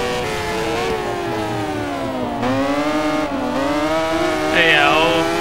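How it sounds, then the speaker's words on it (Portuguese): Racing motorcycle engines in a MotoGP 13 video game roar loudly and continuously, pitch rising and falling through gear changes over a steady drone, with no voices over them. "Isto é mais um solo de barulho dos motores."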